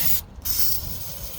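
A pressure washer blasts the engine intake of a 1997 Ford with a loud, close, steady hissing spray, briefly cut off for a moment before resuming, with no talk.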